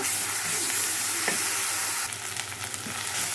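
Turmeric and ginger garlic paste frying in hot oil in a pan, giving a loud continuous sizzle with a few soft stirring scrapes and a brief crackling flare partway through.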